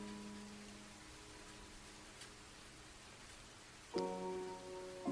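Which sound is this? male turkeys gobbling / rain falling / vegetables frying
rain falling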